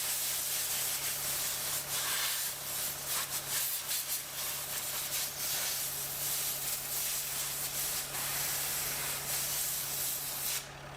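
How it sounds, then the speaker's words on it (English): A truck radiator being blown out with a compressed-air wand in a pole barn: a loud, continuous broadband hiss with a steady low hum beneath it, running unbroken and close for the whole stretch. "Blow out a radiator."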